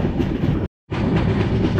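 Kantabanji Ispat Express running on the rails: a loud, continuous rumble of train wagons with rhythmic clatter, broken by a sudden fraction-of-a-second gap of silence before resuming.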